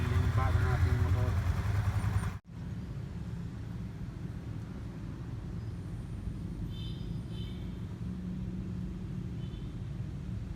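A 2021 Yamaha Sniper 155 VVA standard motorcycle idles steadily with a low, even engine hum. A brief louder burst with a voice comes first, then a short cut, and the idle continues alone nearby.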